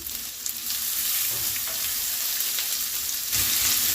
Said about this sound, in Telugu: ఇది వేగిన తర్వాత అల్లం పచ్చిమిర్చి పేస్ట్ వేస్తున్నాను